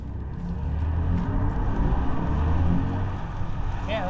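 A BMW i4 M electric car accelerates with a smooth, rising whoosh of motor and road noise that swells and fades over a few seconds, fairly quiet and without engine pulses.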